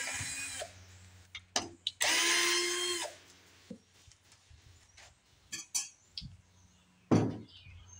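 A power driver backs out two screws on the points cover of an abandoned 1982 Snapper Hi Vac mower: short whirring bursts separated by pauses, with metallic clinks and taps of parts nearby.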